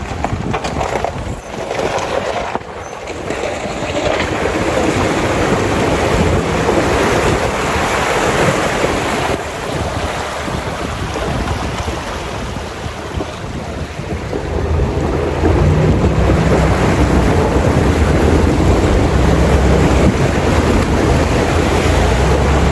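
A 4WD vehicle pushes through a rocky creek crossing on a rough track, a loud continuous wash of splashing water and rumbling that swells louder toward the end, with no voices.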